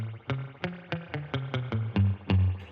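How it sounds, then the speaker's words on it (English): Eight plucked electric guitar notes in a steady, even rhythm, each ringing with a wet, drippy spring reverb that gives a twangy boing. No voices. "this is a surfy style, drippy style reverb. You hear how it's got that boing to it?"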